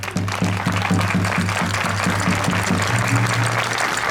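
Applause from a festival crowd at a traditional Extremaduran wedding celebration in Cabezuela del Valle, steady clapping held for several seconds alongside a rhythmic low drumbeat.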